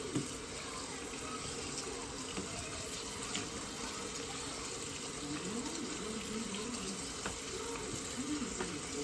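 Cold tap water runs steadily over freshly cooked pasta noodles being rinsed and stirred in a kitchen, a continuous soft gushing with faint clinks and quiet movement underneath.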